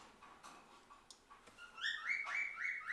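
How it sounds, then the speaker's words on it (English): Outdoor birdsong on a sunny day, a few soft chirps early, then a clearer run of bright, repeated whistled notes rising in loudness near the end, with no talking. "I reckon the birds are happy they seen some sunshine."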